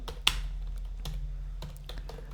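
Keys on a computer keyboard clack in an irregular run of taps, one sharper keystroke early, over a low steady hum with no speech.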